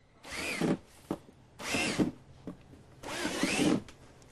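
A power drill bores aeration holes through a planter bench, in three separate bursts of whining motor and chewing bit, each about a second long with short pauses between, close and clear.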